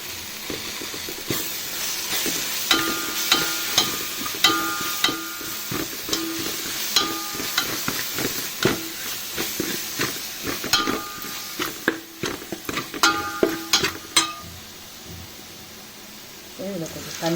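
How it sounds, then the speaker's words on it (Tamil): Green chilies and spices sautéing in hot oil, giving a continuous sizzle and hiss punctuated by frequent clinks and scrapes of a stirring spoon, with a person talking over it at times. "2 பச்சை மிளகாயும் சேர்த்து எண்ணெயில் போட்டு நல்லா வதக்கி விட்டுக்கலாம்."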